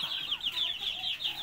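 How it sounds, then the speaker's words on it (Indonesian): Bangkok fighting rooster, a young grey-coloured bird, clucking in a quick series of repeated calls, close and fairly loud, with no talk over it. "Yang ini ayam bangkok."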